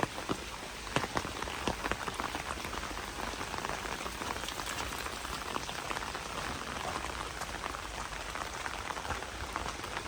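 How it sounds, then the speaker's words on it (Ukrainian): Continuous rain pattering on street pavement in Lviv, Ukraine, on Drahomanova Street, dense and even, with scattered louder drips standing out over the steady hiss. "Падає дощик."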